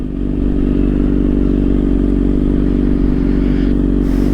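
A motorcycle on a new chain and sprockets roars loud and close throughout a wheelie, its engine holding a steady, heavy revving drone with rattling clatter underneath.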